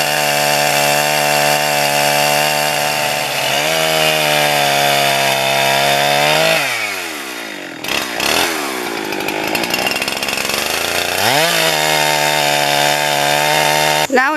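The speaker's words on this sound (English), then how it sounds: "So here comes the chainsaw." A chainsaw cuts a log in half in a quiet wood, loud and close: the engine drones steadily, bogs and revs as the chain bites through, dips briefly, then screams back up to full throttle.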